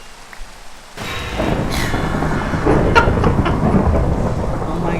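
Thunder rumbles through a steady Minecraft rainstorm, starting abruptly after a quiet moment and swelling into a loud, continuous roll with sharper cracks near the middle.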